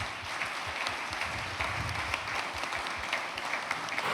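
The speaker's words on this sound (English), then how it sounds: "Big round of applause, please." An audience at a sport and leadership talk claps steadily for several seconds, a dense, even wash of applause with no voices over it.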